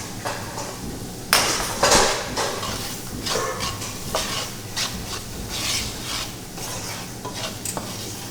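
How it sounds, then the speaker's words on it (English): Onions frying in reserved bacon fat in a pan, a loud close sizzle broken by repeated scraping stirs and utensil knocks against the pan, with no talking. "I've reserved a little bit of the oil from the bacon, and I'm going to use that to fry the onions for just a couple minutes"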